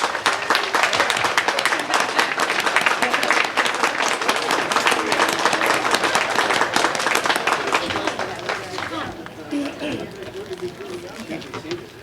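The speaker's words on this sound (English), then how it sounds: "join me in giving a round of applause to United States Marine Corps veteran Danny F. Chinchilla" A ceremony audience applauds a Marine Corps veteran at a Veterans Day event, sustained crowd clapping that is full and dense for most of the stretch, then thins and fades toward the end.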